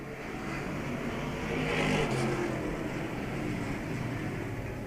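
Street stock race cars roaring around the track at Star Speedway, a steady broad engine roar that swells as the pack passes and then eases, heard from a distance with no talk.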